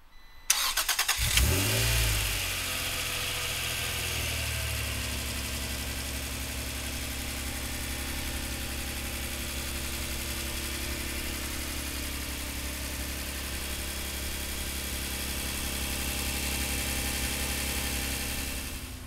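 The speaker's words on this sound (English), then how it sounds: "we're gonna fire it up for you right now" A 1991 Acura NSX engine cranks briefly and catches, then settles into a steady, smooth idle that holds for the rest of the clip, close and moderately loud with no talking.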